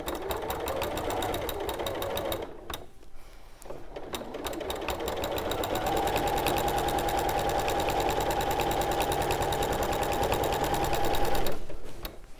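A sewing machine stitching fabric for a handkerchief dress quilt, running at a steady rapid chatter, close and loud, with a short slowdown early on before resuming continuously.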